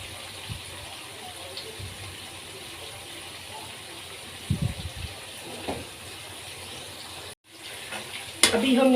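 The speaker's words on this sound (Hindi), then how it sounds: "अच्छी तरह इसको भून लेंगे ताकि टमाटरों का जो पानी निकले" Tomatoes and spices fry in a pan for bitter gourd curry (karele ka salan), giving a steady close-up sizzle with occasional stirring scrapes and a brief clatter near the end.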